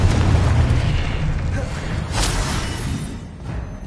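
A Confringo fire spell explosion in Hogwarts Legacy, a heavy booming blast with a rumbling tail, with a short voice heard in the same moment.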